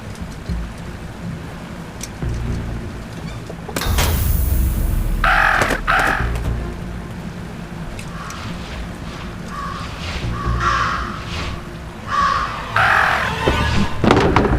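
Crows in the video game Jenny LeClue caw loudly in several harsh bursts over a steady rainy background hiss, with one sharp crash partway through.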